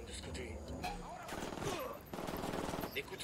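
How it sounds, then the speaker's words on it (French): Gunfire in the video game Ghost Recon Wildlands: quick bursts of automatic shots rattle at moderate distance, mixed with game voices and effects. "Des coups de feu."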